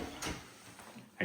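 A kitchen drawer in a high-spec home slides open or shut with soft, brief thuds, quiet and close, faint room noise between.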